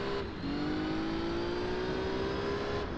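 A Renault Clio in Gran Turismo 3 accelerates out of a corner with the tail sliding. The engine note dips briefly, then climbs steadily and loudly, holding a continuous rising drone throughout.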